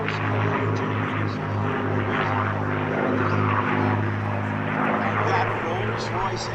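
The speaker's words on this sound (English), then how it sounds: "And the sound of the Rolls-Royce Merlin engine is" Droning Rolls-Royce Merlin piston engine of a P-51D Mustang with a strong steady propeller hum, passing overhead at an air show, loud and sustained, with talking underneath.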